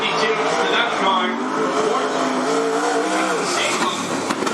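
Race cars lapping at Cottage Grove Speedway, a dense continuous engine roar from several cars at once, loud and steady, with a voice talking over it.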